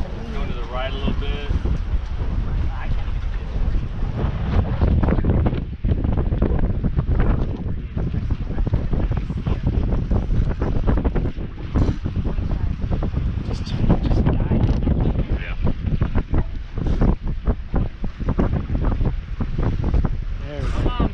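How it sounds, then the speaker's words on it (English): Strong wind blowing across a small fishing boat at night, buffeting the microphone in a constant loud roar with gusty bursts over water, while a person talks intermittently. "Just a little windy"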